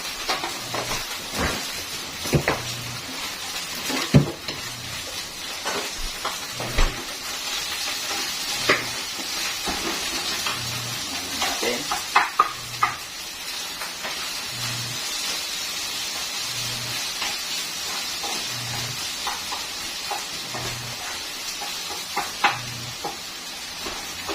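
Fried rice sizzles steadily in oil in a pan while a utensil scrapes and stirs it in irregular knocks and clatters, a continuous hiss running underneath throughout.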